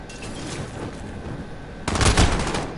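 Video game gunfire: a dense, steady rattle of shots runs throughout, swelling into a louder, harder burst near the end, with no talking over it.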